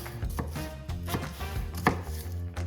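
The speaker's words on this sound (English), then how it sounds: "then we're going to cut that white part of the onion again in half" A knife chops through the white part of green onions on a cutting board, a quick run of repeated, close, moderately loud cuts, with no talking.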